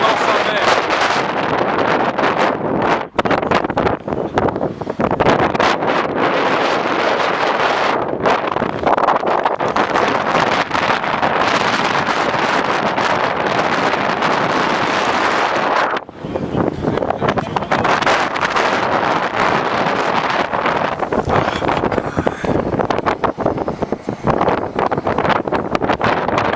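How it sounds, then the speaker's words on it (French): Strong, continuous wind in Iceland roars and buffets the microphone, loud and gusty throughout, with voices faintly mixed in. "On a le vent le plus fort qu'on a eu jusqu'à maintenant"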